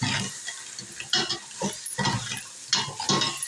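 Crab pieces stir-fried in curry masala make loud, uneven bursts of sizzling and spatula scraping in close, irregular strokes, with no voices.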